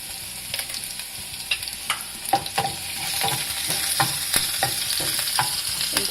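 Garlic, cumin and mustard seeds frying in hot oil until golden for katori chaat, a constant close sizzle punctuated by repeated scraping stirs.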